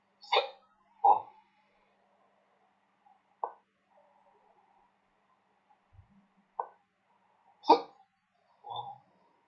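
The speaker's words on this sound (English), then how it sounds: "So I have hiccups." Repeated hiccups from a person during an interview with a chess FIDE Master, sharp isolated bursts spaced over several seconds with quiet gaps between, fairly close and clear.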